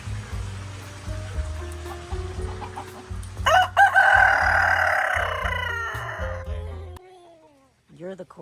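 Backyard chickens cluck and a rooster crows, calls rising loudly midway under a steady low hum, with a person speaking in the background and brief bird calls near the end.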